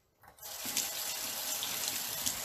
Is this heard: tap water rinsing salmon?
yes